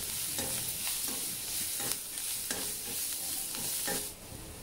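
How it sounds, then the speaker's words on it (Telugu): Curry leaves and coriander sizzle in hot oil in a pan for lemon rice, a continuous close frying hiss broken by rhythmic scraping strokes of a spoon stirring, fading at the end. "వేసుకున్న తర్వాత కరివేపాకు, కొత్తిమీర కూడా వేసేయండి"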